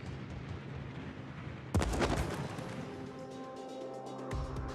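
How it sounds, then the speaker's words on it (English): Anti-aircraft flak from warships fires at planes in World of Warships: a sudden heavy burst of booming fire, then a rumbling tail and a later smaller thump over a low engine drone, sounding moderately distant. "По нам ведут огонь."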